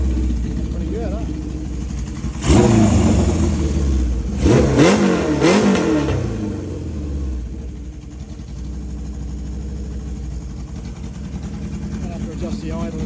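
Honda CB750F cafe racer motorcycle engine running steadily near the listener, with two sharp throttle blips and a quick burst of revs in the middle before settling back to a lumpy idle, with a voice speaking briefly over it.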